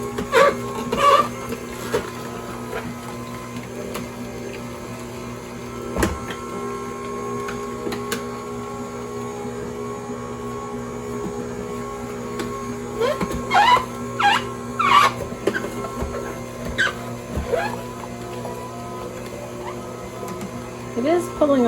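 An Orfeld 1505 horizontal auger celery juicer hums steadily with a low motor drone while juicing apple, punctuated by intermittent crunching and squeaking as pieces feed through. A person talks over it at times.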